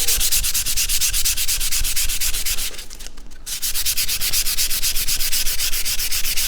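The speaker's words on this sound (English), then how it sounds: "So you see those nail holes start to look a little bit better with that weird residue sanded off." Sandpaper rubs residue off the nail holes of a wooden key rack in fast, even back-and-forth strokes, loud and close, with a brief pause in the middle.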